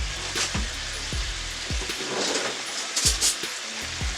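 Ground beef and sausage browning for baked spaghetti sizzle steadily in a pan, with a constant close frying hiss broken by a few utensil scrapes and taps.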